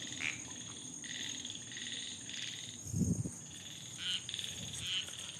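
Frogs croaking in repeated pulsing calls over a steady chorus of night insects at an abandoned bungalow, with a louder, closer croak or rustle partway through and no talking.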